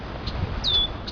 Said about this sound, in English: They're both chirping away like crazy.